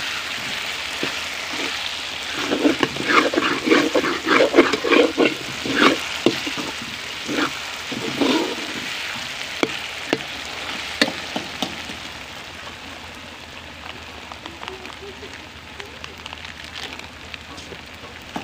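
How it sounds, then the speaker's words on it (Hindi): Whole potatoes fry in hot oil in a busy, crackling sizzle, loud and dense at first and then settling into a steadier, quieter bubbling with scattered pops. "दो आलू डाल दो साबुत,"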